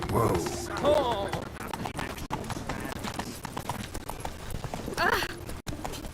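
Hoofbeats of Geralt's horse Roach in The Witcher video game, a steady close clip-clop gallop running throughout with a brief whinny, mixed with game music and ambient effects.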